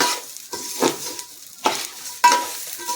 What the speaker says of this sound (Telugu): ఈ అల్లం వెల్లుల్లి పేస్ట్ వేసిన తర్వాత ఇంకా కలపాలి